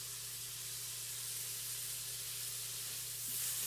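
Onions sizzle in an Instant Pot while being stirred, a steady bright frying hiss over a low electrical hum, close and continuous with no voices.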